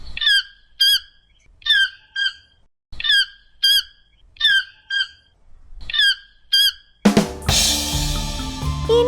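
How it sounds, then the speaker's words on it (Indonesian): A toucan gives repeated croaking, squawk-like calls in an even rhythm, clear and fairly close, before a burst of other sound takes over near the end. "Ini burung tukan."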